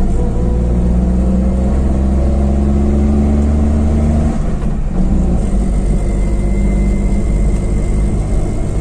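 A 2010 Maruti Suzuki Omni LPG van cruising in fourth gear, its engine giving a loud, constant drone with road noise heard from inside the cabin, no voices.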